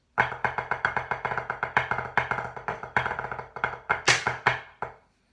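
Snare drum playing a fast drum break phrase: a dense run of crisp, closely spaced strokes with shifting accents and dynamics, close and loud, with no talking.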